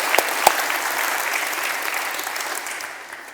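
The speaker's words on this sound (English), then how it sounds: "So can we have another round of applause, please?" Audience applause at the PyData Cardiff conference, a dense steady clatter of many hands with a couple of sharper claps near the start, fading slightly toward the end.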